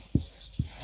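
Two quick strokes of writing on a board during a spectroscopy lecture, short close scrapes about half a second apart over quiet room tone.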